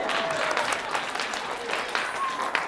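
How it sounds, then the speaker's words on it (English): A school audience at a mathematics show claps for a performer, a moderate spread of many hands at middling distance, while a voice or two talks faintly over the clapping. "And the applause is deafening."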